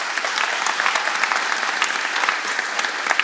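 An audience applauds at the inauguration of Henri Fabre's Canard seaplane at an aeronautics museum in Provence, a steady, even patter of many hands clapping in a hall, moderately loud and unbroken.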